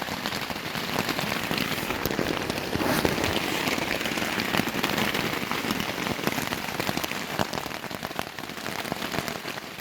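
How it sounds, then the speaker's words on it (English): Steady, dense rain drums on a leaking tent rainfly, a constant close patter of drops with no letup, heard alone and fairly loud from start to finish. "It's literally fucking raining right through every fucking pore of the fucking fly."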